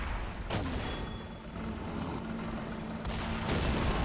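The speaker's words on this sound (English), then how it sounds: "German mortar driving and shooting" German mortar firing repeatedly in Men of War: Assault Squad 2 while the vehicle moves, dull booms and bursts rising over a continuous rumbling battle din with a steady low engine drone underneath.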